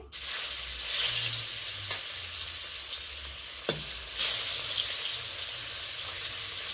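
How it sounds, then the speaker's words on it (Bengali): Bhetki fish fries in smoking-hot mustard oil in a karahi, a strong, even close-up sizzle running throughout, punctuated by a sharp clack of a utensil partway through and a few softer bumps. "বেশ ভালো করে উল্টে পাল্টে মাছগুলোকে লালচে করে ভেজে নেব"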